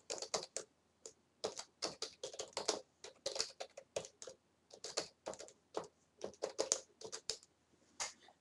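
Rapid, uneven bursts of typing on a computer keyboard at a login screen, crisp close keystrokes in quick clusters with short pauses, fairly quiet and without any voices.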